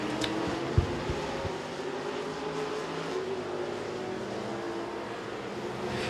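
Super stock race cars roaring around the Tazewell Speedway oval during a feature race, a continuous distant engine drone with one sharp knock early on.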